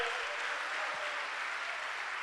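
A church congregation clapping in praise, a faint, steady wash of applause heard from a distance throughout.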